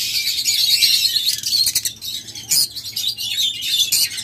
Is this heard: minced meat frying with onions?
no